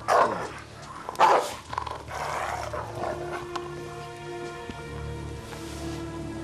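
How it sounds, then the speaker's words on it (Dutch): A dog barks and growls in a few loud bursts near the start, and the calls then fade into quieter rumbling sounds over a steady low tonal hum. "Haal die hond weg."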